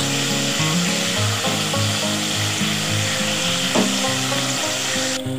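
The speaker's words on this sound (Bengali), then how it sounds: "এবার ভেজে রাখা বড়াগুলো দিয়ে দিচ্ছি, বড়াটা দিয়ে একটু নেড়ে চেড়ে" Fried chana dal fritters go into a frying ridge gourd and poppy seed curry and are stirred, giving a constant loud close sizzle with a faint steady tonal hum beneath it.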